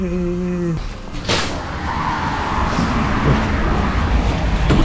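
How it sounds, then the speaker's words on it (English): City bus pulling up at a stop in a frigid -50°C town, a loud rumbling engine and hissing brakes swelling over steady traffic noise, with a short burst of air release midway and a voice speaking briefly. "and my bus has already arrived"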